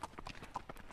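Horse hooves clip-clop in a quick, even rhythm during riding, several light strikes within a second, fairly faint and close.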